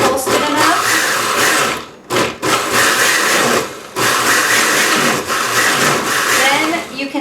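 Blender pulsing beets for juice, a loud coarse whirring grind in repeated bursts with brief gaps between pulses, close and steady in between.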